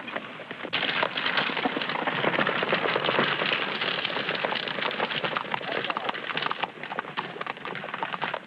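Continuous dense clattering of hooves, steady and fairly loud throughout, with busy rhythmic clip-clop over a rough background.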